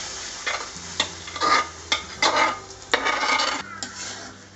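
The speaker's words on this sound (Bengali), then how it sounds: "এটা দেওয়ার সাথে সাথেই একটু নাড়তে হবে যাতে নিচে লেগে না যায়" A chhena mixture for Bengali sandesh is stirred in a pan: a series of rasping scrapes in uneven bursts, with faint sizzling under them and no voice.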